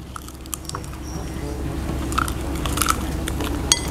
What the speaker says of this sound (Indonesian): Nah bunyi, kriuk.